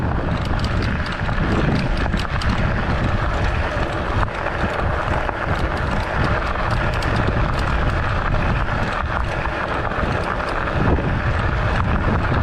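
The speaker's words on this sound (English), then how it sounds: "Quite the headwind right now." Strong headwind buffeting the microphone while riding an e-bike on a trail, a loud continuous roaring rumble with no pauses and no talk.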